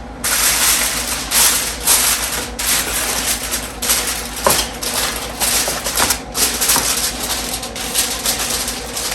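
Aluminium foil crinkles and rustles steadily as it is pressed over sweet potatoes laid in a single layer on a parchment-lined baking sheet, a close, continuous crackling with small bursts.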